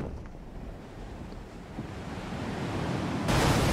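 Water and waves in the Elden Ring video game, a steady wash of broadband surf noise that swells louder toward the end, with no voices.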